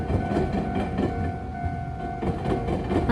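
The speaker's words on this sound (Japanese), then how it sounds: "松山市内には路面電車が走っています" A street tram in Matsuyama, Japan rumbles along its rails with steady rolling noise, faint clacks and a thin high whine, close and continuous.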